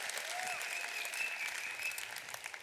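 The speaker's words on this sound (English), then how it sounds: "Big round of applause for the PAT." Audience applause in a hall, a steady wash of many hands clapping at moderate distance, continuing evenly and easing slightly toward the end.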